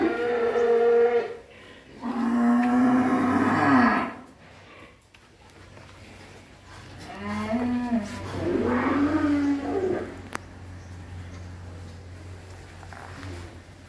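Cattle lowing in a Vietnamese farm pen holding cream-coloured and crossbred beef cattle in Vinh Long, with two long, loud moos close by near the start, then softer calls and stirring amid farm background noise.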